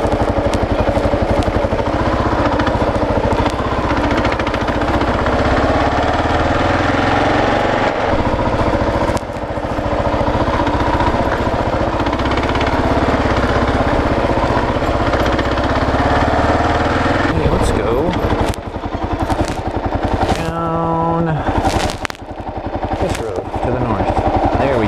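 Kawasaki KLR 650 dual-sport motorcycle on 80/20 street tires chugging through deep soft sand with little throttle, a loud continuous engine drone close by, with faint talk and bursts of wind buffeting near the end.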